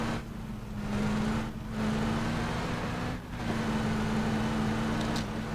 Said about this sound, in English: He probably hears the car's engine